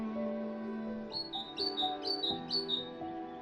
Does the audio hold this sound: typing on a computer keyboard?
no